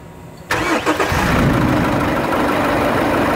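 A Chevrolet S10 with stiff steering cranks briefly, fires up loudly and settles into a steady, close idle.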